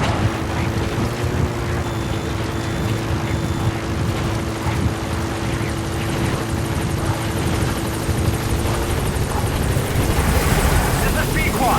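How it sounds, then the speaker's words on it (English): Support helicopter in the Metal Gear Solid V: The Phantom Pain video game, its rotor thumping loud and steady as it arrives, with a voice talking over the roar. "Support helicopter has arrived."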